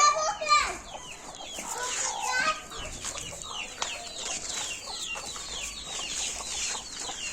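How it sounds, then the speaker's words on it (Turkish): Chickens cluck and chatter continuously at moderate distance in a garden while children talk and play nearby, a busy farmyard mix. "Siz tavukları gördünüz mü?"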